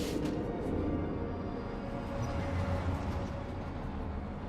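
A train rumbles past in the video game Spider-Man 3, a steady loud low roar of rolling wagons filling the whole stretch with no talk over it.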